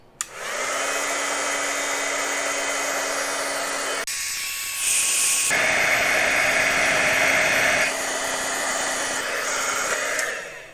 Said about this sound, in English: grab my heat tool, and I'm going to set this embossing powder. It just kind of melts it.